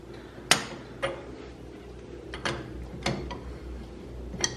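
A breaker bar tightening a bolt during a CV joint repair on a Yamaha Viking side-by-side: six sharp metallic clicks and clanks at uneven intervals, close and fairly loud, with no voices.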